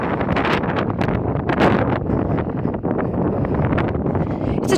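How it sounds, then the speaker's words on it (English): Strong wind buffets the microphone at the rim of a deep mine pit at Three Kids Mine, in constant gusty roars, loud and rough throughout. "So I know it's really windy."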